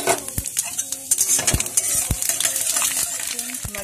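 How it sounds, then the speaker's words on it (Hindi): Cumin, dried red chillies and whole spices sizzling in hot oil in a pan for Rajasthani panchmel dal, crackling continuously while a spoon stirs and clinks against the metal pot at close range. "अब इसमें जीरा, लाल सूखी मिर्च और कुछ खड़े गरम मसाले डाल के भूने लेंगे।"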